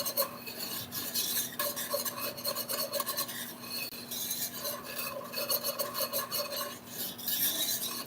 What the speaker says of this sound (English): And stir this again.